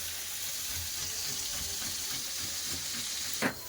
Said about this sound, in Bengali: সিমের ভালো করে জল ঝরে নিয়েছে এবার দিয়ে দেবো তেলের উপরে এবার তো ভাজা হবে